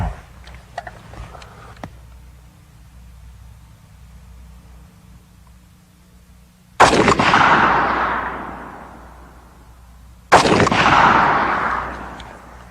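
.308 NATO (7.62x51) rifle, an FN, fires two shots outdoors, each a sharp, loud crack followed by a long rolling echo that fades over several seconds, about three and a half seconds apart after a quiet lead-in.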